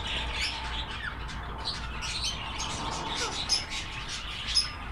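Ringneck parakeets in a breeding setup give repeated sharp squawks and chirps at moderate distance over a faint background hum.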